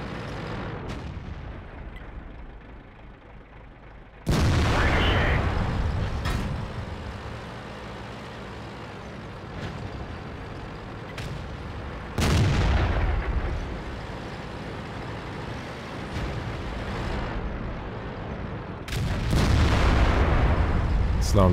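Heavy tank cannon fire in World of Tanks from an IS-7, several deep booming shots spaced across the clip over a constant rumbling engine and battle background, with a voice talking at times.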